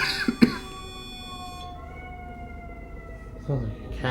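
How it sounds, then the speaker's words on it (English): A cat meowing in a long, drawn-out wail that fades, with a short knock and a faint voice at the start and a murmur near the end, heard during a paranormal investigation in Chicago. "Sounds like a cat."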